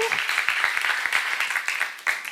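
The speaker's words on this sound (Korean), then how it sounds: "지금 박수 주세요." Korean church congregation clapping during a seminar, a dense, fairly loud burst of many hands applauding together for a couple of seconds.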